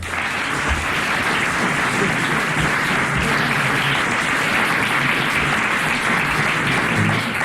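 Studio audience at a French radio comedy panel show breaks into sustained, even applause, a dense wash of clapping that holds steady and fairly loud throughout.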